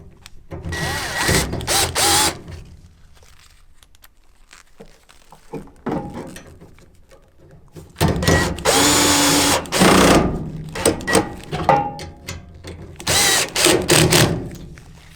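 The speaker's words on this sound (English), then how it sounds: "Then just go ahead and put those 2 screws back in." A power drill drives screws into the gas valve coils of a clothes dryer, with two loud, close bursts of whirring that rise and stop, separated by quieter handling noises, and no one speaking.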